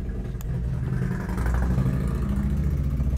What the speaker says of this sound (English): I apologize for if you hear a motorcycle outside.